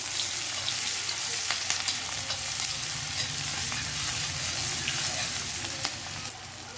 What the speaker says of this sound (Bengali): পেঁয়াজটা তাড়াতাড়ি ভাজা হয়ে যাবে